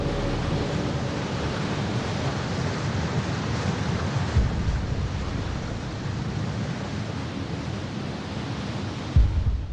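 Tsunami waves flooding the Fukushima nuclear plant, a dense roaring surge of water with wind-like rumble, loud and continuous, with a few heavier crashes toward the end and no voices.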